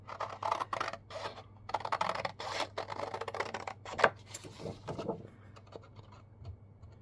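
Scissors snipping through paper for a notepad craft kit, a series of close, quiet scratchy cuts in irregular rhythm, fading toward the end.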